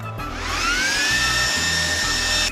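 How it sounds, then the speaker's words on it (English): A leaf blower roars steadily at close range, blowing sanding dust off a piece of furniture, its whine rising in pitch as it spins up and holding loud throughout. "Once you get it all sanded down, you're going to want to bring in the leaf blower"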